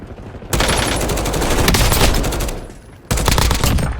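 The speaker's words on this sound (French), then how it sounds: "Des tirs." Rapid automatic gunfire in a Warzone Resurgence match, loud dense bursts of shots filling the scene, easing briefly before another burst resumes.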